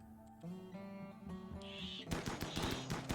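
Colonists' guns in Rimworld open fire in a rapid burst of sharp shots after a stretch of tonal game music, loud crackling volleys filling the final second.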